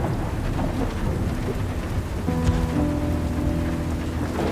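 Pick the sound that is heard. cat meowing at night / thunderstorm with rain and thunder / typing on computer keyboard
thunderstorm with rain and thunder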